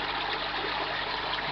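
A steady, fairly loud rush of water flows into an aquaponics tank, continuous and close with no voices.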